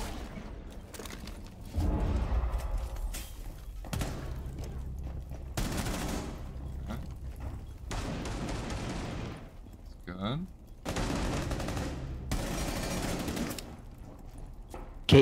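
Bursts of rapid automatic gunfire and loud shots in Rainbow Six Siege come in several dense volleys separated by brief pauses, with voices talking among the shots.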